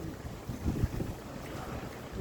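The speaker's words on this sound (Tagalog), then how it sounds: "Hangin." Gusty wind buffets the microphone with a low, rumbling roar that swells and fades, no voices present.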